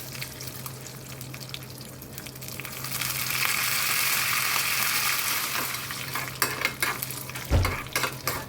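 Tempering spices sizzle in hot oil for chutney, with a hiss that swells loudly, then scraping stirs and a few knocks against the pan.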